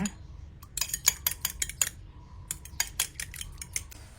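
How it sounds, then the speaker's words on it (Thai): Two eggs are whisked in a bowl omelette-style with a utensil, giving quick, rhythmic clinks and taps against the bowl in close, uneven bursts with brief pauses between them. "ตีไข่เหมือนทำไข่เจียวเลยนะคะ"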